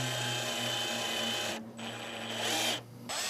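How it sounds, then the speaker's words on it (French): A power drill drives into a wooden batten while a canvas picture frame is assembled, giving a steady high whine that dips twice into short pauses before resuming. "Et ta perceuse, il faut qu'elle soit bien perpendiculaire au tasseau."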